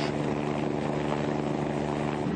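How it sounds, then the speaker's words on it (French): A civil security rescue helicopter coming in to land on a ski piste near Chamonix gives a loud, close, continuous rotor and engine roar that stays steady throughout, with no voices. "Première intervention de la journée pour l'hélicoptère de la sécurité civile de Chamonix."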